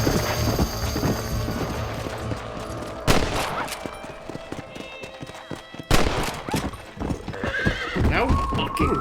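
Horse hooves clip-clopping at a gallop in Red Dead Redemption, a steady rhythmic pounding close up, broken by a whinny and bursts of gunfire, with game ambience and some talk over it.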